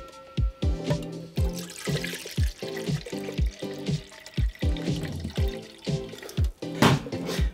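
Homebrew beer extract being poured off, heard as a series of uneven gurgling glugs and splashes of liquid, about a dozen distinct pulses close by with no talking.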